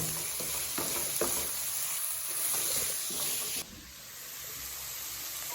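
Onions with salt stirred as they fry in a pan for Kerala-style chicken, a steady close sizzle with scraping spoon strokes, then quieter frying after a brief drop in level.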